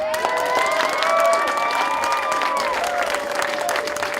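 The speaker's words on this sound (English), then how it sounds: "if you guys applaud really big" A comic convention crowd claps loudly and cheers, with whoops and a few high sustained shouts or whistles riding over the dense applause.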